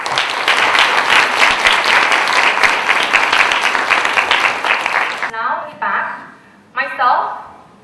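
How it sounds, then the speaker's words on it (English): An audience at a Model UN conference delegate orientation gives sustained loud applause for about five seconds, then it cuts off and a speaker begins talking. "So please give them a big round of applause."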